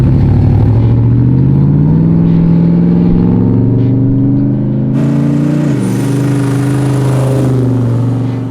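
A car engine and exhaust drone loudly from inside the vehicle, pitch shifting as it revs and changes gear, with a faint high ringing tone entering partway through.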